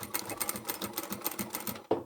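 Sewing machine backstitching along a bag handle seam, a fast steady needle rattle running close and continuous before stopping with a short final knock.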